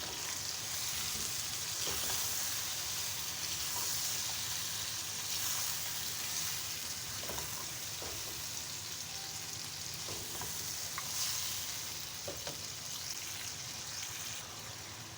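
Chicken masala with about four spoons of yogurt just added sizzles steadily in a pot, a continuous frying hiss with occasional stirring clatters, close and fairly loud throughout with no talking.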